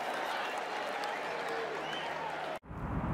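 Golf gallery roaring and applauding for Ricky as he walks onto the 17th tee at TPC Sawgrass during THE PLAYERS 2023, a loud sustained cheer that cuts off abruptly near the end.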